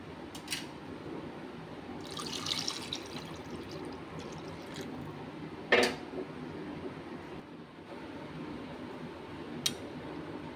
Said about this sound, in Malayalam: അല്പം കൂടെ വെള്ളം ഒഴിച്ചു കൊടുക്കാം